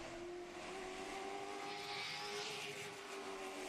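A race car in qualifying at Hickory Motor Speedway gives a sustained high engine whine that swells and fades as it passes. It sounds moderately distant and carries on without interruption.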